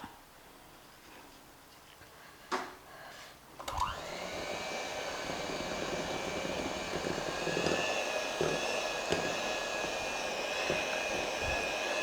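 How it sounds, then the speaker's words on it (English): An electric mixer starts up after a few knocks and then whirs steadily while beating chocolate fudge cake batter, a sustained high motor whine that grows slightly louder, with no talking. "Now we will mix it again and start beating."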